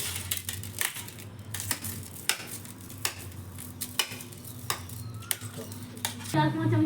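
Boiled potatoes being prepared for aloo paratha: repeated sharp taps and clinks of utensil against a pot or bowl with soft mashing in between, steady and close, over a low background hum.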